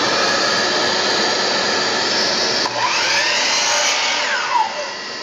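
A miter saw cuts wooden trim pieces set against a stop block, its loud, close motor whine holding steady and then dipping and recovering in pitch as the blade meets the wood.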